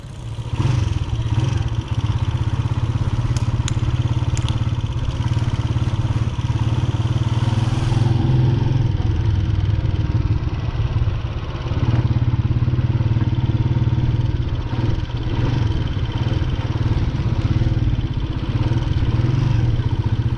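A Honda CG125 classic motorcycle rides along with a steady mid-pitched single-cylinder drone, close and fairly loud, with light clatter and small shifts in engine pitch throughout.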